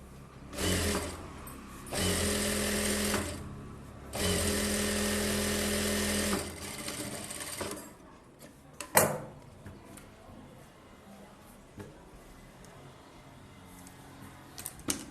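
Sewing machine stitching the front of a blouse in two loud, steady bursts of about two seconds each, separated by a short pause, followed by quieter handling clatter and a sharp knock.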